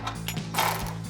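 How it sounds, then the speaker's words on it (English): A ratchet clicks rapidly and closely while tightening the bottom mounting bolts of an Atlas roll bar on a Jeep Gladiator JT, a brief burst of mechanical pawl ticks with no voices. "So we'll use our ratchet on the bottom"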